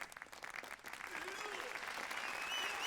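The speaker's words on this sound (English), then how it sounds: "The slow clap." A crowd applauds steadily in the video game Yakuza 0, a slow clap of scattered claps swelling into continuous applause, fairly distant and without talk.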